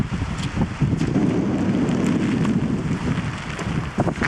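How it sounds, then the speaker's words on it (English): Strong wind buffets the microphone while relentless rain pours down on a fog-bound mountain path during a hike, a loud continuous roar with gusty rumbling and scattered patters. "this rain has been relentless."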